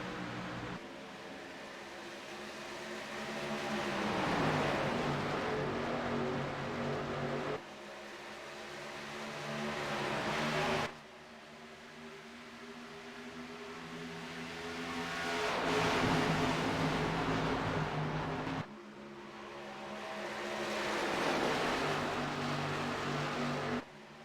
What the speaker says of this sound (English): We're just going to go quiet for a lap and enjoy the sounds and the feel of these cars around Kentucky.